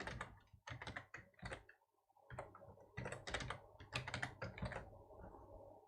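Rapid keystrokes on a computer keyboard as an IP address, username and password are entered for a Hikvision 12MP fisheye camera, clustered bursts of close, crisp taps with short pauses, no talking.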